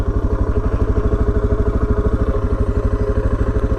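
A 2016 Suzuki DR650 motorcycle engine runs close by with a loud, steady, rapid thumping idle, its pulses evenly spaced throughout with no voices.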